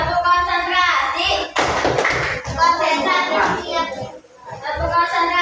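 Fifth-grade schoolchildren in a classroom chant and clap together in a concentration clapping routine, a burst of rhythmic group claps mixed with loud young voices speaking in unison.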